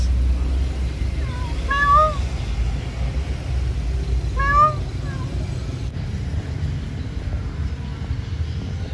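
An injured stray cat with tape around its neck gives two short, plaintive meows a few seconds apart over a low rumbling background, then goes quiet.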